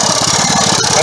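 A Poulan riding tractor engine, pulled from a scrap yard, runs steadily up close with an even, throbbing idle and a rough mechanical chug, loud and unbroken.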